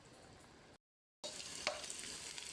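Onion, garlic and chili sauté in a pan for chicken feet adobo, giving a continuous close sizzle with faint stirring that briefly cuts to silence before the frying resumes.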